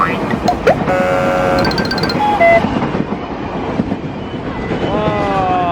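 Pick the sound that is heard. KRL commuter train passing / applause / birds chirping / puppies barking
KRL commuter train passing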